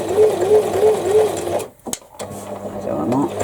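Sewing machine stitching fabric in a circle, a quick regular mechanical chatter that pauses briefly midway then resumes, with a voice talking over it.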